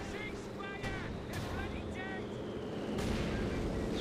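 In Company of Heroes 2 a Pak 40 anti-tank gun fires in sharp, repeated blasts amid battlefield rumble and other gunfire, with a commentator talking over the action throughout.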